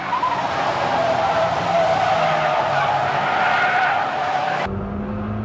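Race cars including a Mazda RX-7 roar loudly around a track in a close battle, with a sustained engine drone and tire squeal throughout before the sound cuts abruptly near the end.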